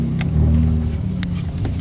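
A Hyundai car manoeuvring in a parking lot, heard from inside as a loud, steady low engine drone with a few faint clicks and knocks over the top.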